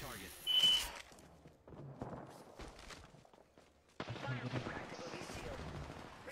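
Gunfire in a shooter video game, a few scattered shots and bursts heard faintly and mostly in the background, with a player talking over them and a brief beep early on.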